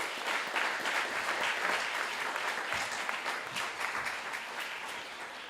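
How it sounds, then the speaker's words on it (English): Audience applause for participants at a community showcase event, a dense steady clapping from a large crowd filling the space throughout, slightly easing toward the end. "let's give a big round of applause to all of the participants."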